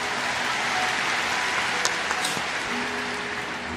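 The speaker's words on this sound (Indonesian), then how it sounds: "kita berikan tepuk tangan untuk Roh Kudus" A church congregation breaks into sustained applause during a worship service, dense clapping that holds steady throughout with a few sharper claps standing out near the end.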